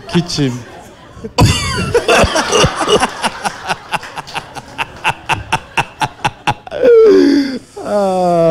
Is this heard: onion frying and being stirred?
no